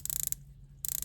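A Tudor dive watch bezel rotates with two quick bursts of crisp, evenly spaced ratchet clicks, close and clear, separated by a short pause.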